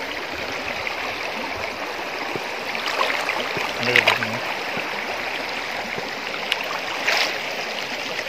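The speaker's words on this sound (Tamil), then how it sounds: "தண்ணி சூப்பராக போதா" A stream flows steadily through the whole stretch, water rushing and gurgling at a constant level with a few brief splashy surges, no voices over it.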